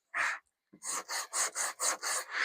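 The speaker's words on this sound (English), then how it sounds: "I'm going to take my little sander and I'm just going to lightly sand the edges." Small sander lightly working the edges of a snowman craft piece, one short rasping pass, then a pause, then a quick rhythmic run of about seven close strokes; no talking.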